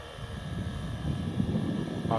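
A radio-controlled UH-1 Huey GPS 450 model helicopter flies over a beach, giving a steady whirring rotor and motor drone that swells slightly toward the end, with a voice apparently speaking over it.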